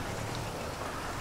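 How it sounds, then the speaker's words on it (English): Rain falls steadily in the video game GTA 5, a dense even hiss of drops on surfaces, soft and continuous for about a second with no talk. "Getting some rain."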